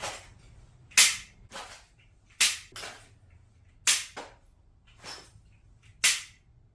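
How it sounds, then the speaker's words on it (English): Handgun shots fired in the dark at a shooting range, fitted with a weapon flashlight, six sharp loud cracks spaced about a second apart, each followed by a short echo. "Okay, now we're going to take a couple of shots in the dark and we'll see how we do here."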